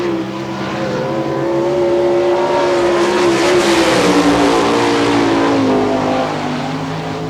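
Sprint race car, the 28K of Tim Kern, on a dirt speedway at an All Star Circuit of Champions event in Hartford, Ohio, its engine roaring loud and sustained with rising and falling pitch as it powers past, no talk.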